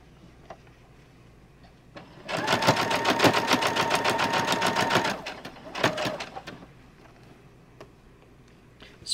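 A sewing machine stitches a decorative embellishment onto a spring towel, a rapid even mechanical whir running about three seconds, then a short second burst after a pause, close and loud in a quiet room.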